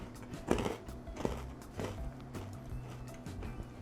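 Crunchy homemade Brazilian yuca biscuits, biscoito de polvilho, bitten and chewed close up, with a few sharp crunches followed by quieter rhythmic chewing over a low background hum.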